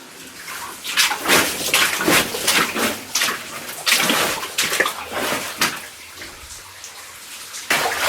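Water falling inside an old mine near straining timbers and an ore chute, a rushing, splashing wash that rises and falls in loud surges, with no voices.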